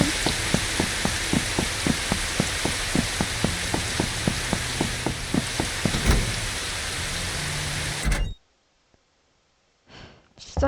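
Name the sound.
rain falling in the video game Mimesis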